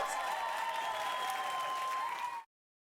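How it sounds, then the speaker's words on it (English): Crowd applause in a dating sim video game, a steady dense wash of clapping that holds evenly for over two seconds and then cuts off abruptly. "There's a fucking applause."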